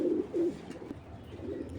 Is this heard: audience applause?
no